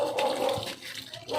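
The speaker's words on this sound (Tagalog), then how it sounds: "kailangan diligan yung mga Mayana kasi matakaw sila sa tubig." Water splashes and pours steadily onto coleus (mayana) plants in hot tropical summer weather, a short close gushing spray that briefly thins out.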